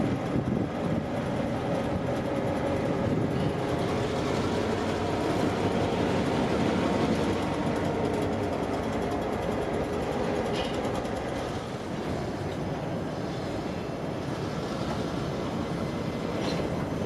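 A slow freight train rolls across a set of five track switches on Florida rails, a steady loud rumble of wheels and cars with faint clicks, near and continuous with no voices.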